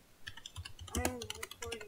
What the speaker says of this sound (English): you guys might hear my typing, it's because my mic is close to my camera